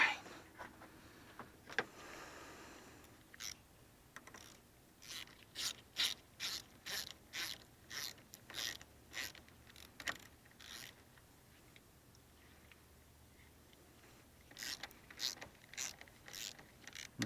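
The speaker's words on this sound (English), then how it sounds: "tighten these down real good, but not crazy tight, because this is lead." A ratchet tightens battery terminal nuts on a Honda Accord, with about a dozen quick, close clicking bursts in a steady rhythm, a pause, then another run of clicks.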